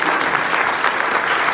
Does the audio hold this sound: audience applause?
yes